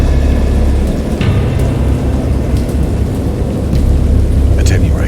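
A heavy thunderstorm rumbles with deep, sustained low thunder over steady rain, loud and enveloping, with occasional sharper crackles breaking through.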